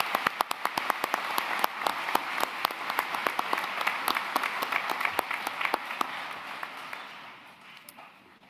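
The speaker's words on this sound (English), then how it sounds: "Can we have a round of applause for our speakers" Audience at a college commencement applauding the speakers, a sustained, fairly distant round of clapping that fades out toward the end.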